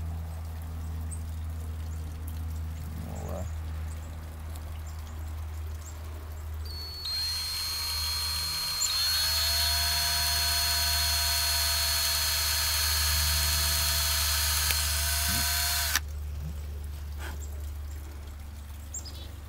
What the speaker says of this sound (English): now we're at the drilling phase